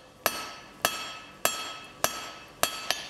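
A blacksmith draws out a taper by hand with a 2.5 pound crossbeam hammer on hot steel, six sharp ringing blows struck at a steady, even rhythm, each ringing briefly before the next.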